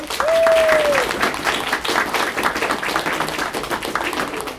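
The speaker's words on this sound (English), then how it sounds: "Good job, debaters. Everybody give them a round of applause." Audience applause for debaters at a furry convention debate event, a dense wash of clapping that stays steady for several seconds, with a brief whistle-like tone near the start.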